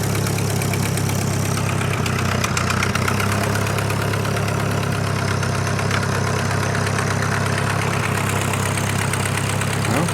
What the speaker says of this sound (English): Give me a little clutch